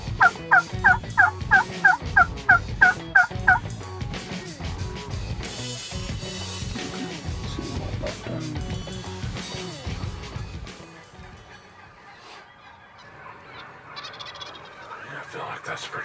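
Wild turkeys roosted in trees in Nebraska gobble in a rapid string of sharp calls early on, followed by a dense, layered chorus of gobblers and other birds at varying distances.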